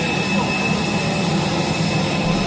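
An easyJet Airbus A320 jet engine drones steadily on a rainy airport ramp, a loud continuous roar with a thin high whine running through it, heard close and alone.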